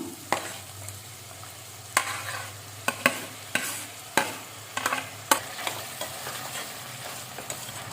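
Chopped tomatoes and capsicum fry in a pan while a spatula stirs them, giving a constant close sizzle punctuated by irregular, sharp scraping knocks against the metal.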